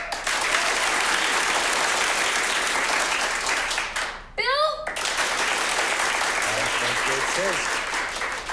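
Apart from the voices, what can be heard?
audience clapping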